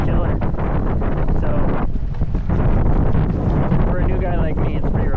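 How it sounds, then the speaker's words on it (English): Strong, gusty wind buffets the microphone aboard a 1987 sailboat heading to dock, a continuous loud roar with rushing surges, and a brief spoken word at the start. "this wind is pretty intense. These gusts are just killer."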